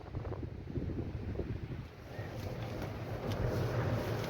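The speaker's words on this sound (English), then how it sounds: "I've come inside to get out that wind a bit." Cold wind buffeting the microphone at a beach camp, a steady loud rushing roar with gusts swelling and easing, and faint surf beneath, no voices.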